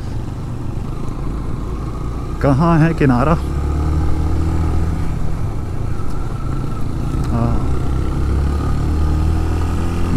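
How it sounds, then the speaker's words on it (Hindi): A motorcycle engine runs steadily throughout on a bike trip from Dera Ghazi Khan toward the hill station Fort Munro, with a low continuous drone and wind rush under brief speech. "बहरहाल बाइक चले जा रही है"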